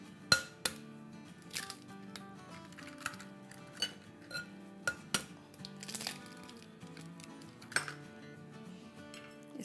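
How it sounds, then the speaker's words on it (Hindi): Two eggs being whisked in a bowl with honey and milk for banana nut bread, giving a run of light metallic clinks and taps against the bowl over a steady background, fairly quiet and close, with no talking. "इसको विस्क कर लेंगे।"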